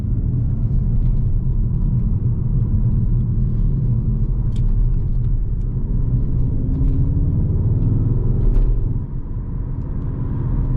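A 2022 Skoda Octavia vRS diesel accelerating hard with brief front wheel spin, steady loud low engine and road rumble throughout with a slight dip near the end.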